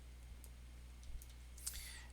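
A computer mouse clicks softly once or twice while someone edits a course page, the faint taps sitting over a low steady hum in a quiet room.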